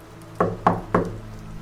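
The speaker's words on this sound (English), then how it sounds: "It was fast, sharp, just once, a single knuckle against the door." Three sharp knuckle raps on a wooden door, evenly spaced and close, with a brief hush before and after.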